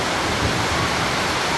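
Very heavy rain pours down during Typhoon Paolo, a dense, unbroken roar of water with wind mixed in, loud and steady throughout with no gaps.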